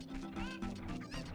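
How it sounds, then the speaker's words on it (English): Cackling chickens from the video game Zelda: Ocarina of Time, a quick run of squawky, clucking game-sound calls over a faint background tone. "I can't look for chickens and think at the same time. I can hear them."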